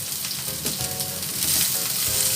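Onion sizzles steadily as it sautés in a pan for an Indonesian vegetable dish, with a dense, even crackle and occasional soft stirring scrapes, close and continuous, growing slightly louder toward the end.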